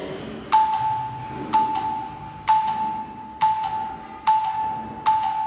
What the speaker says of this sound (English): when I push the bell push, the light turns on and the bell rings